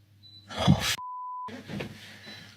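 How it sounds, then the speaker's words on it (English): A single steady electronic beep from a fridge holds for about half a second, set between bursts of muffled rustling and shuffling noise. "I can hear something beeping downstairs, and the only thing that beeps like that is the fridge"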